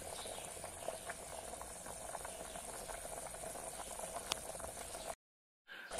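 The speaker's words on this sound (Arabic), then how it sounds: "هنا كما زدنا على النار وراح تبدا تغلي" A pot of chicken and chickpea stew on the stove bubbles with a steady, dense simmering hiss and rattle, close and continuous, broken by a brief gap of silence near the end.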